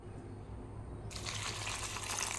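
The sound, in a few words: water poured into a pot of ridge gourd and sprouted green gram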